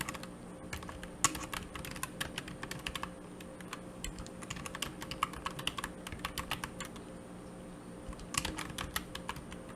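Soft, quick keystrokes patter on a computer keyboard as someone enters a DAX formula, an even run of close, quiet taps with no voices.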